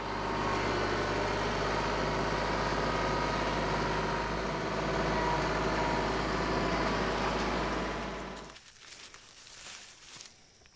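Tractor engine running steadily on a farm while hay bales are loaded for wrapping, a loud, constant low idle drone for about eight seconds before it suddenly drops away to quiet background rustle.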